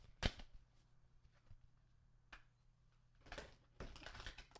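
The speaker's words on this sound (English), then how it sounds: "That was a terrible shuffle." Tarot cards are shuffled in a few brief, quiet bursts of riffling and flicking, separated by near silence, with a louder rapid flutter of cards toward the end.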